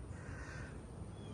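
A crow caws outdoors, faint and brief against a steady wash of broadband background noise.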